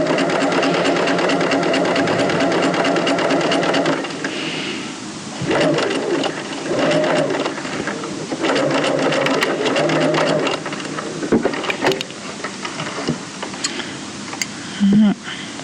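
A sewing machine stitches a strapped cuff opening in fabric, loud close mechanical whirring in several bursts with short pauses between them, and a voice talks over parts of it.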